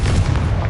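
The Confringo explosive spell in Hogwarts Legacy lands as one short, dense, booming blast, loud and close.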